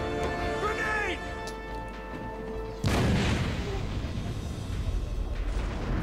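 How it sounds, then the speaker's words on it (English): A grenade goes off during Batman: Arkham City gameplay with a sudden loud boom and a rumbling, crackling tail that lingers for several seconds. A voice speaks just before the blast. "Grenade!"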